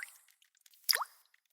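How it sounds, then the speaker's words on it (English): One faint, isolated water drop plops from a leaky shower head, landing once in otherwise quiet surroundings. "That sound is the leaky shower head that came with your place."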